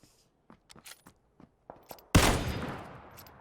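A single loud Kar 98 bolt-action rifle shot rings out in PUBG, its sharp crack trailing into a long echoing decay, after a run of faint footsteps and small scrapes.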